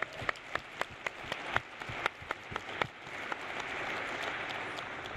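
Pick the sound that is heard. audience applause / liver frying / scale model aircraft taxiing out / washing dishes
audience applause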